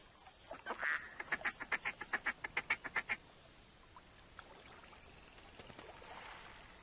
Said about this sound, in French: Encore là des canards.